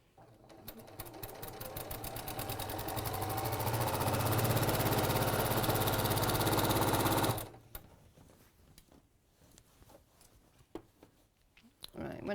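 A sewing machine stitches a quilt seam in one fast, steady run that lasts about seven seconds, then stops. After that come quieter handling clicks and soft sounds.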